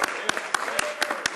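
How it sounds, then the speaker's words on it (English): Applause in Canada's House of Commons, heard as a brief burst of rhythmic clapping with sharp regular claps over roughly a second, mixed with room murmur. "a great round of applause"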